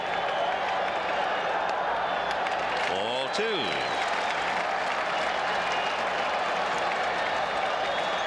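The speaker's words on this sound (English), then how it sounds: "Crowd coming alive." Baseball stadium crowd at a 1986 World Series game cheering and applauding in a steady, loud roar that fills the whole stretch, with a commentator talking over it.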